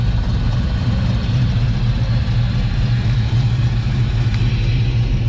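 A classic race car engine idles loudly at a Las Vegas car show, a steady deep rumble with a lumpy low throb that continues evenly throughout without voices.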